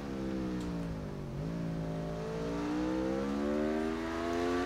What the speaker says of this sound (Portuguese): Eita, a moto aqui tá voando baixo